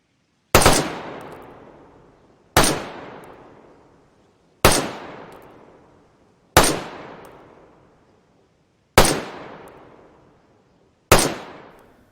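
Six loud, close rifle shots from a powerful sniper rifle in the video game DayZ, each a sharp crack followed by a decaying echo, evenly spaced about two seconds apart with silence between.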